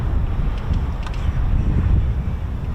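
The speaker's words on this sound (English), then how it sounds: "it's windy again" Strong, steady wind buffets the microphone at RAF Mildenhall airfield, a dense low rumble that continues without a break through the whole stretch, with no talk.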